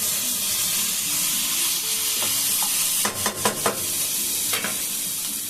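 Prawn and egg biryani ingredients are stirred and mixed in a hot pan under a constant loud sizzle. A quick cluster of scraping strokes comes midway, then one more.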